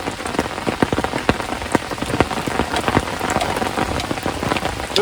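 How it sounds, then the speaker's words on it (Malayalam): Heavy monsoon rain pelts a surface in a dense, steady patter, with sharp individual drops standing out constantly; nobody speaks. "നല്ല മഴയാണ്"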